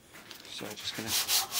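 Sandpaper rubbing over super glue on a guitar headstock veneer during a Gibson Les Paul Junior build, heard as a few short, close scratchy strokes in quick succession with no talk.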